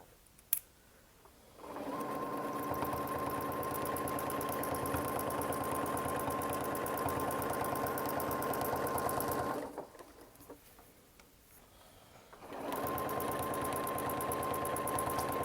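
A sewing machine stitches through a quilt in two long, steady runs of fast, even whirring, separated by a quiet pause, with a small click just before it starts.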